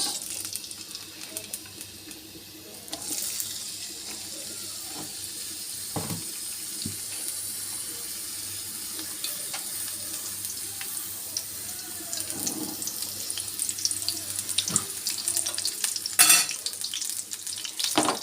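A kitchen tap runs while carrots and yardlong beans are rinsed and drained, water pouring in a continuous rush with occasional clatter and splashes, while oil sizzles faintly in a pan nearby.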